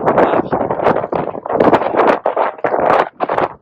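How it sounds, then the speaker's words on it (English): Strong wind roars and buffets the microphone in loud, ragged gusts with brief lulls, out at the border wall off Old Highway 80. "It's very, very, very windy here."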